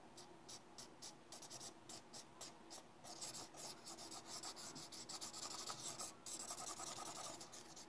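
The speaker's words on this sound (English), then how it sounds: "the last trigger for today is drawing sounds" Pencil scratching across paper in quick, uneven strokes, close and quiet, with short pauses between bursts of scribbling.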